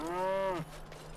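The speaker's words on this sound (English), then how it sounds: "Quiet, cow." A cow in the fantasy role-playing game Dragon Age: Origins gives one long, loud, close moo that falls away into low background hum, with no talking over it.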